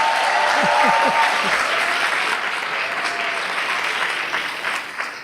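Applause from a seminar audience, a broad sustained patter of many hands at close range that gradually eases off.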